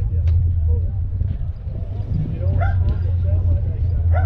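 A dog barks and yips a few times over a low steady background rumble, the sharp barks close and clear.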